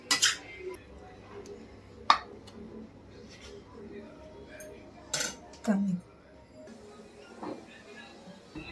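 Sev upma served into dishes: sharp clinks of a spoon against plates and bowls at irregular moments, close and fairly loud, with a voice speaking between them.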